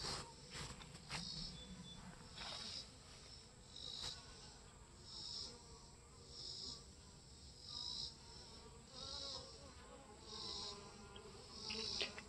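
Honey bees buzz steadily in a continuous, close, moderately loud drone while they gather water from seedling trays outdoors, with no voices.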